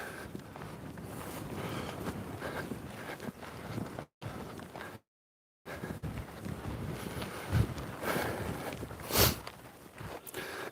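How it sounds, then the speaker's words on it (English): Strong, cold wind blows across an outdoor coastal site near an old castle wall, roaring and buffeting the microphone in continuous gusts, with brief dropouts and a few louder bursts, and no speech. "God, that wind's biting."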